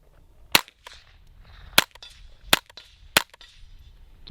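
A .22LR survival rifle fires in binary trigger mode, giving four sharp, loud reports spaced unevenly across a few seconds, with faint mechanical handling noise between the shots.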